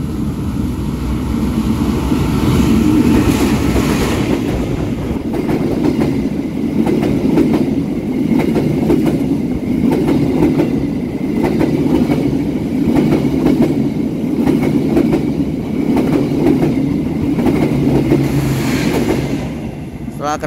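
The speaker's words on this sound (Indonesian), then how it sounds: "Kereta api Turangga melintas dari jalur 2" Turangga passenger train passing on track 2 at a station, a loud, steady rumble with rhythmic wheel clatter over rails lasting throughout, no talk.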